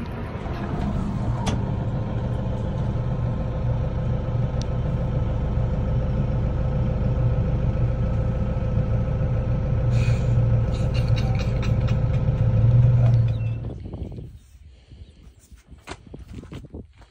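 A tractor engine runs steadily with a low, even drone while being ridden, then drops away sharply near the end, leaving faint background noise.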